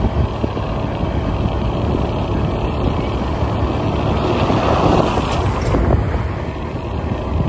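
A motorcycle ride along a cool, scenic road in Unisan, Quezon, heard as steady broadband engine and road rumble with wind buffeting the microphone, continuous and loud throughout with no talking.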